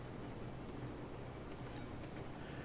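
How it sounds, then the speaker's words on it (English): A train in the video game Railroads Online rolling steadily along the track, a continuous low rumble at moderate, even volume with no distinct clacks or pauses. "So we're going to pull the train in here."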